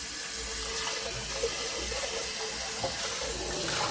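Water streams from a kitchen tap into the sink as a pan is washed, a continuous close hiss with a few faint knocks, steady throughout.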